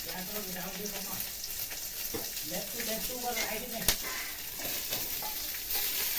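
Sliced onion frying in hot oil, a steady soft sizzle and crackle with occasional stirring clinks, while people talk over it.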